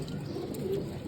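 A pigeon coos faintly in a low, steady, continuous murmur, quiet and close, with a faint background hiss.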